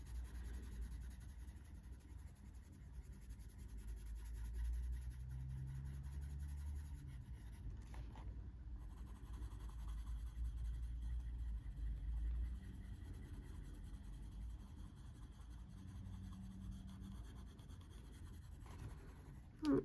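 Soft continuous scratching of a warm grey 273 coloured pencil laying a light layer on paper, steady and close with a low background hum.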